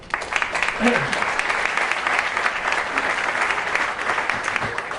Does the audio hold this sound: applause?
yes